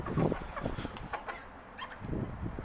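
Backyard chickens cluck and murmur in their coop while it is being readied for winter, a few short close calls in quick bursts, moderately loud, without any speech.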